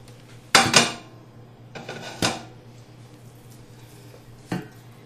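Pork shoulder roast with a big bone being set into a roasting pan, giving three separate clattering knocks of metal pan and meat, close and fairly loud, with quiet pauses between.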